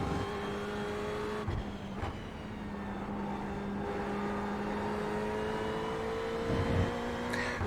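A Ferrari 488 GT3 race car in iRacing at Watkins Glen drones with a sustained engine tone that rises and falls through gear changes, with a couple of sharp shifts and a brief louder surge near the end.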